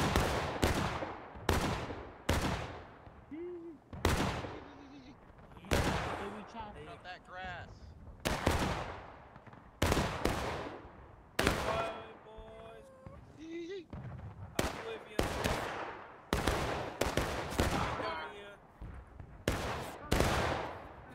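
Musket volleys in the video game War of Rights crack out repeatedly and loudly in close succession, each boom rolling away into echo, while a voice comments between the shots.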